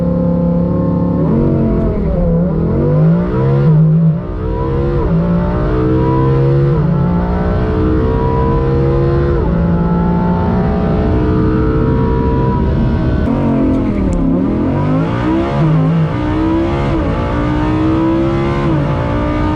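A Lamborghini Huracan launches hard against a Porsche 911 Turbo S, its engine roaring loud and close as the revs climb steeply through several gear changes with brief dips between shifts, heard from inside the car.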